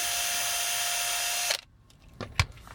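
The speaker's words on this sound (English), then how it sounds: "So now we're going to drill a hole here." A power drill whirs loudly for about a second and a half drilling into an action figure, then cuts out, followed by a few soft clicks and knocks.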